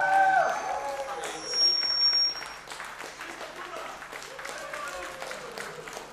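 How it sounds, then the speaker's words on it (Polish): Applause from a concert audience thanking the performers continues as a steady, moderately loud clatter of clapping, with someone talking over it at the start. "Ogromna brawa."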